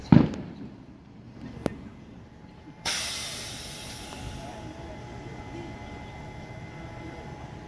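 Fireworks go off outdoors near a Metrolink line in Fontana. A couple of sharp, distant pops come first, then a louder burst that trails into a long, fading hissing crackle.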